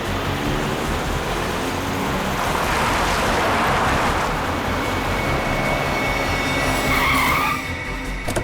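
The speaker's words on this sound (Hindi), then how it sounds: "गाड़ी बहुत तेज चला रही है।" A car races at very high speed with tires skidding, a loud, continuous roaring rush of engine and road noise that swells midway and ends with a brief squealing tone as it fades.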